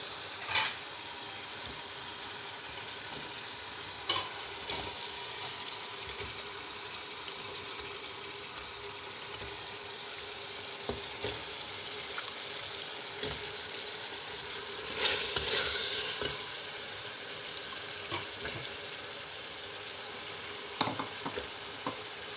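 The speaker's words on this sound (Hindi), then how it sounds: "तो अब मैं इसमें लौकी डालूँगी।" Steady sizzling and frying hiss from a pot as bottle gourd is added and fried, with occasional scraping clinks of a spoon stirring, moderately loud and continuous throughout.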